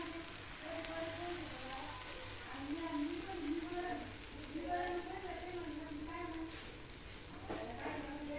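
A wheat-flour dhirde pancake sizzles softly on a pan as its second side cooks, a faint, steady frying crackle with a voice murmuring over it.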